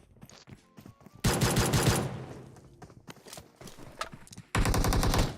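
Loud automatic gunfire in the battle-royale shooter PUBG comes in two dense bursts, separated by quieter footsteps and scattered single shots.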